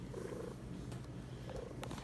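A cat purrs steadily and close up, a continuous low rumbling that rises and falls with each breath.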